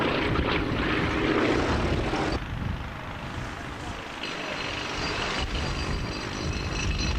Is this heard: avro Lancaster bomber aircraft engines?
yes